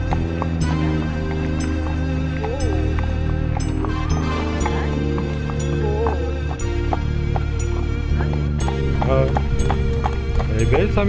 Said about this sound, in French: Oh, le cheval s'est effrayé.